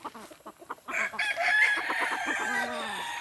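Young gamecock stag crowing in a small backyard fowl yard, one close, loud cock-a-doodle-doo following a few short clucks, with no talk.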